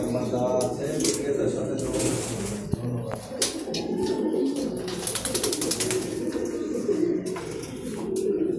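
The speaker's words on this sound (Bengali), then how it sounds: "অনেক ধরনের কবুতর আছে।" Racing pigeons coo steadily inside a loft, a dense low murmur of many birds running throughout with occasional chirps above, while a voice speaks over the flock.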